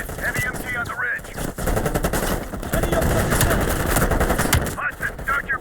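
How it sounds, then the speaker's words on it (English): Heavy machine gun fire in a war video game rattles in loud, sustained rapid bursts with brief breaks, with game voices faintly underneath. "Heavy MG on the ridge."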